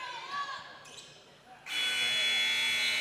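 An end-of-quarter buzzer sounds at a women's college basketball game, kicking in loud and sustained partway through and holding steady to the end over gym ambience.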